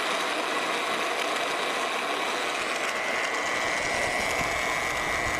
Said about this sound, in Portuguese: Vamos começar a furação. Vou ligar. Regular a velocidade.